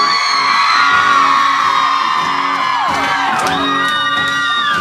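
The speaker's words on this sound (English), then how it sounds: "Please yell as loud as you can for all these guys on stage." A concert crowd at an Ace Enders show yells, whoops and cheers loudly for the band, a dense continuous roar of many voices right up close.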